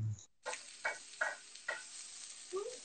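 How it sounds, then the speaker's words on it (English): Steady sizzling of mushrooms sautéing in a pan, with several soft scraping stirs at regular intervals and no talking. "you can hear them sizzling. I can hear the sizzle now."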